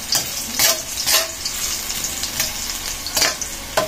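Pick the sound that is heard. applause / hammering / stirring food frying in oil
stirring food frying in oil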